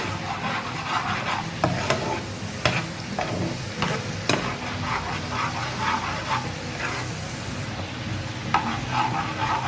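Thinly sliced green chillies go into a hot pan for maash ki daal, producing a moderate ongoing sizzle with scattered clinks and stirring knocks nearby.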